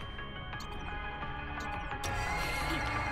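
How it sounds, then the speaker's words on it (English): An anime sound cue layers a horse's neigh with a bright metallic twang over a sustained musical bed, and a sharper accent enters partway through. "That one with the neighing horse in the background and the twang at the same time."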